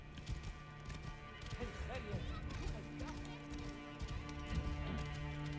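Horse hooves clip-clop steadily in Assassin's Creed Origins, a game set in ancient Egypt, mid-level and continuous beneath game music and ambient sound, with talking mixed in.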